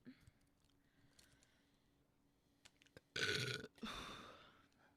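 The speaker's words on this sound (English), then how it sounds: "Now you're swearing and burping on the live internet." A person lets out a loud, rough burp close to the microphone, followed by a second shorter burst, after quieter murmurs of conversation.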